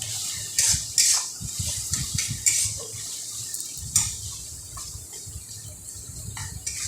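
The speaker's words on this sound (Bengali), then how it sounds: "দিয়ে এবার আবারও ভালো করে মিশিয়ে নিচ্ছি।" A utensil stirs ghugni after garam masala and sugar go in, making repeated close scrapes and metallic clinks against the pot in an uneven rhythm over a moist, bubbling background.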